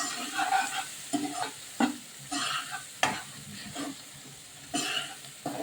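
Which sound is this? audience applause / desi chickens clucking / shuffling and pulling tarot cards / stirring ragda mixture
stirring ragda mixture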